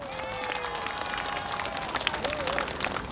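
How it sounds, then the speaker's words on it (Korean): Clapping from an audience at a Korean political gathering, a dense steady patter of many hands sustained evenly throughout, with crowd voices and shouts mixed in. "우리 한상수 우리 최고위원님을 위해서 여러분 박수 부탁드립니다."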